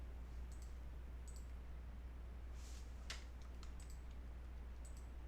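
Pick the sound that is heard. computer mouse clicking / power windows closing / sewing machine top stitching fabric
computer mouse clicking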